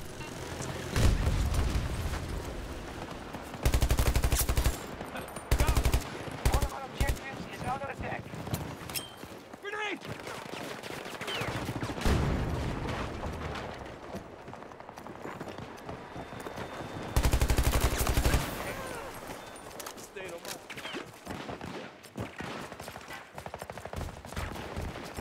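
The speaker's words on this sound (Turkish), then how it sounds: "Bu ses bizimkilerin silahından mı geliyor, karşı takımdan mı?" Gunfire in Battlefield 2042 on a Valparaiso-style map: repeated bursts of shots and heavy booms come and go across the span, some close and loud, others more distant, with players talking throughout.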